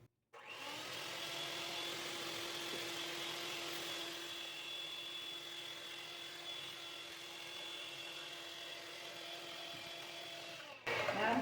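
A stand mixer fitted with a whisk attachment beats sugar into a lemon meringue pie filling, giving a steady, close motor whir with a constant hum that runs unbroken for about ten seconds and then cuts off abruptly.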